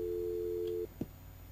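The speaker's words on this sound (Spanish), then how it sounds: "Teléfono." A telephone busy signal in the horror video game The Mirror Lied: a steady tone runs, then cuts off, followed by a soft click and quiet background.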